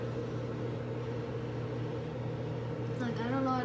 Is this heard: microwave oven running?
yes